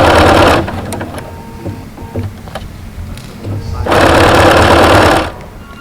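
A sewing machine stitching a face mask seam runs in two loud, steady bursts, one at the start and one near the end, with quieter handling noises and a voice in between.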